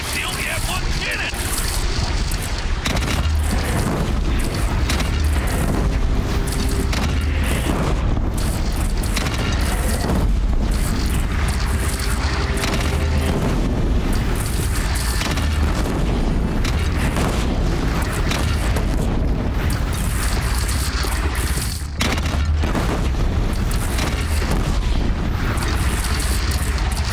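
Cannon fire and explosions in the video game Horizon Zero Dawn, dense and loud throughout, with heavy booms rolling over a constant battle roar and voices shouting.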